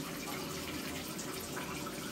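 Water runs steadily from a tap during washing, a constant close hiss and splash with no breaks.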